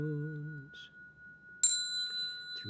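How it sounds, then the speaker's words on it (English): A bell struck during a Buddhist chant rings out as a bright, sustained metallic tone that lingers and decays, preceded by a low held voice. "Do we want to do the bell sound?"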